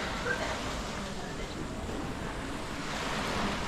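Sea waves at a beach resort, a steady wash of surf rolling continuously with wind noise across the microphone, no voices.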